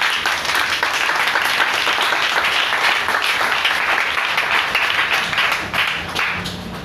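Congregation at a church service applauding together, a dense, loud and steady sustained clapping that tapers slightly at the end, no speech over it.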